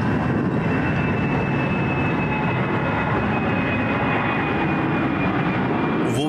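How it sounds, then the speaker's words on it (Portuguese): A Boeing 767 airliner flies low over a residential area near Piracicaba, its turbine roar a loud, steady broadband rumble that holds for the whole stretch with no voices. "O avião voava baixo e o barulho das turbinas chamou a atenção."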